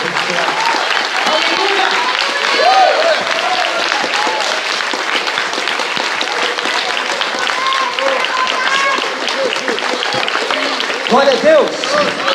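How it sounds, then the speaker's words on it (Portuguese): A church congregation applauds steadily and loudly throughout, the dense clapping overlapping with voices calling out praise and worship words. "Aplauda o Senhor."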